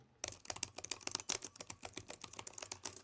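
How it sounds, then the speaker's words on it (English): Rapid, crisp clicks of someone typing on a laptop's per-key RGB backlit keyboard with Cherry MX mechanical switches, a steady run of close keystrokes with no talking. "The keyboard is per key RGB backlit keyboard, and it's Cherry MX mechanical switches."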